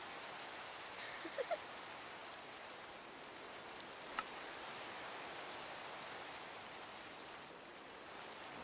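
Faint, distant rain hisses evenly and steadily, with a few soft ticks and clicks scattered over it and no voices.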